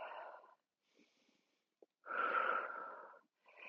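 A person doing a stretch on a Pilates reformer breathes heavily: a forceful, rasping breath, a short gap, then a longer breathy exhale and the start of another. Each breath is close and wheezy.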